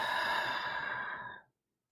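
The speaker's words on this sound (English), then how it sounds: "In through your nose and out through your mouth." A single long breath is drawn in through the nose and let out through the mouth, close and soft, fading to silence after about a second and a half.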